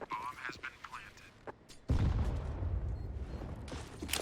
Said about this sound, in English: Shots ring through as the plant comes out on A